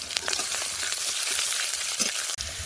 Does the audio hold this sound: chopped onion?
yes